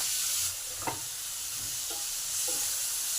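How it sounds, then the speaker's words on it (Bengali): Chopped tomato with spices stirred and fried in a pan for pasta sauce, a soft, steady sizzle broken by a few light spatula scrapes, with no talk. "টমেটোটাকে ভালো করে নেড়ে নেবো।"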